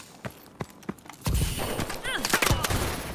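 Gunfire during a Call of Duty: Advanced Warfare online match: a few sharp isolated shots, then a dense burst of rapid firing with game effects, fairly close and loud.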